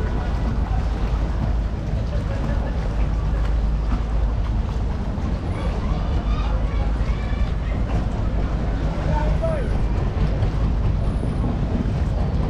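Sadarghat river port in Bangladesh, where small dinghy boats ferry people across the river: a constant loud wash of water, engine and crowd rumble fills the scene while someone talks over it.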